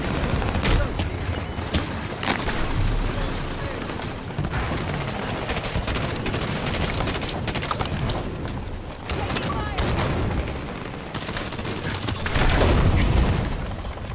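Grenade launcher blasts and rapid gunfire from a Halo 5 skirmish, dense continuous shooting with repeated booms and mechanical clatter throughout, loud and close, with no voices on top.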